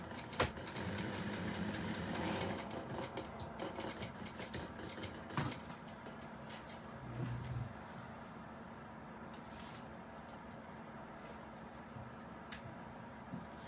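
A Bernina sewing machine stitches steadily for several seconds with a dense mechanical whir, then slows to intermittent bursts and ticks before falling quiet near the end; no voices.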